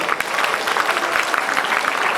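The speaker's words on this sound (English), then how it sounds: "So can we have a thunderous applause for all our sponsors?" An audience at an inter-college youth festival in Patna gives its sponsors a dense, steady round of applause. The clapping is loud and continuous for the whole stretch, with no voices rising above it.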